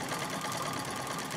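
Singer 66 treadle sewing machine free motion quilting a tote bag, a steady close whirring hum with fast even stitching texture, alone.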